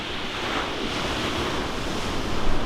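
Sea waves and strong wind off the East Devon coast in rough conditions, heard from a paddler's craft as a dense, constant wash of surf and wind noise close to the microphone.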